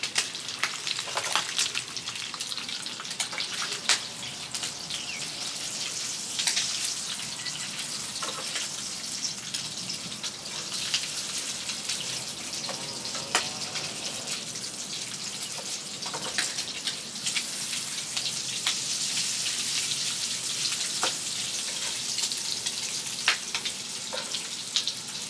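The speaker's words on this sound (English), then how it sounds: "I think it's time to flip the bacon." Bacon sizzles in a pan with a continuous broad hiss and scattered spitting pops, moderately loud and steady for the whole stretch, with no talking.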